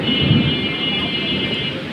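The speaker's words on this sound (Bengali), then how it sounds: "ঝড় হচ্ছে সাথে বৃষ্টি হচ্ছে" A storm with rain and wind in Dhaka, heard from a balcony, makes a loud, constant broadband roar with no breaks, dense and close.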